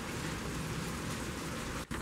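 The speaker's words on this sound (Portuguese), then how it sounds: "Já está chovendo desde cedo, ó. A chuva tá intermitente aí, ó." Steady rain falls outdoors, a dense continuous patter of drops on surfaces close by, with a low rumble underneath and a brief dip near the end.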